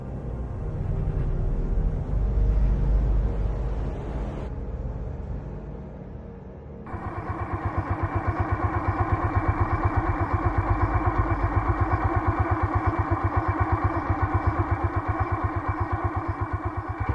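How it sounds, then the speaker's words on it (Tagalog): A motorcycle engine effect in a narrated story: after a few seconds of muffled ambient noise, a steady idling engine rumble kicks in and continues evenly to the end. "Ayun, bumaba siya ng motorsiklo niya."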